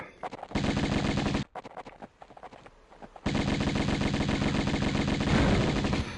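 Rapid Uzi gunfire in the Tomb Raider Remastered video game, loud sustained automatic bursts with a short pause of scattered single shots between two long volleys.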